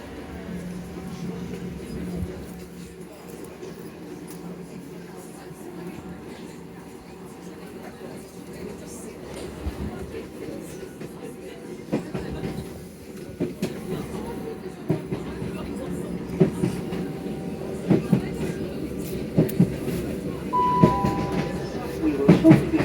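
Steady low rumble and rattling of a Southeastern passenger train running between Charing Cross and Dartford via Bexleyheath, heard from inside a busy carriage, with faint clicks and creaks building toward the end and voices in the background.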